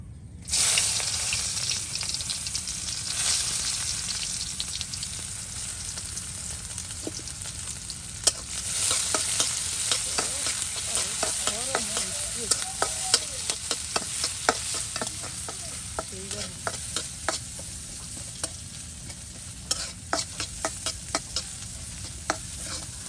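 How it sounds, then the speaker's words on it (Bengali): Onion and garlic fry in hot oil in a village-style kitchen, giving a steady close sizzle, with repeated scraping and clinking stirs of a spoon in the pan, and no voices throughout. "এই যে আপনার পেঁয়াজ রসুন সবকিছু কিন্তু একদম তেলে দেখুন মসমসে ভেজে নেওয়া হলো"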